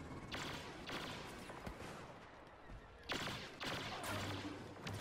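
Gunfire in the Star Wars Battlefront video game comes as faint, rapid bursts of blaster shots in several clusters, with steady background battle noise between volleys.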